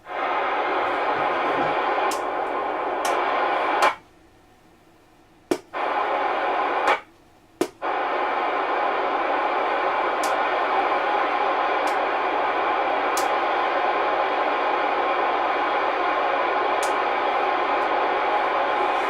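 Vintage CB radio receiving on AM, giving a steady hiss and hum with faint tones over the band, broken by two short drop-outs to near silence and a few brief clicks throughout.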